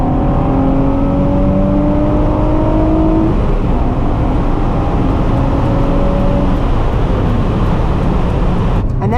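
A Nissan 350Z accelerating hard from inside the cabin, its engine a loud, continuous roar with rising harmonic tones through a gear, then a brief shift and climbing again, steady and close throughout.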